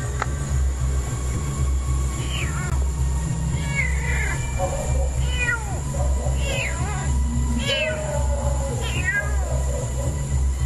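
A black cat meows repeatedly, several plaintive, rising cries spread through the stretch over a loud, constant low rumble, with faint talk in the background.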